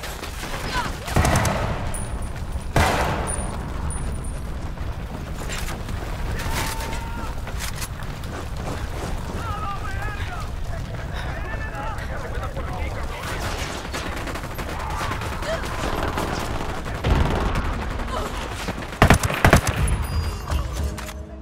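Rapid bursts of automatic gunfire and scattered shots crackle through a firefight in Ghost Recon Wildlands, dense and fairly loud over rumbling ambience, with several louder bursts toward the end.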